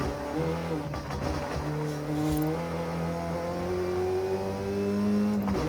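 The engine of a front-wheel-drive A-class car in a racing game revs and accelerates steadily, its pitch climbing and shifting through gears in a continuous loud drone.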